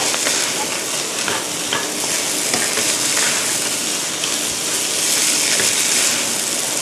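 Rice is stir-fried over high heat for a chicken curry-powder fried rice, giving a loud, continuous sizzle with constant tossing and scraping in the pan from start to finish.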